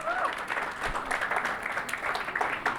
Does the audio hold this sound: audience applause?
yes